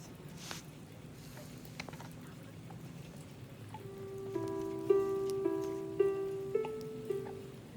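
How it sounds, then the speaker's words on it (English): Steady light rain pattering outdoors in a garden on a wet Pacific Northwest fall day, soft and continuous, with a few brief tonal knocks and clinks joining in over the last few seconds. "It was a very typical Pacific Northwest fall day with lots of rain."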